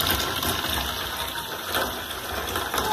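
Water running from a kitchen tap into a sink, a continuous rushing gush with a steady broadband hiss and slight fluctuations, close and alone with no talk.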